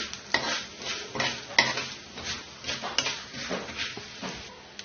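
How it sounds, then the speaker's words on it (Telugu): Chana dal, urad dal and mustard seeds frying in oil in a pan, with a steady crackling sizzle broken by a run of quick stirring scrapes and taps, close and fairly quiet with no voices. "ఇప్పుడు ఇదే ఆయిల్లో 1 స్పూనున్నర పచ్చిశనగపప్పు, 1 స్పూన్ మినప్పప్పు, 1 స్పూన్ ఆవాలు వేసి వేయించుకోవాలి."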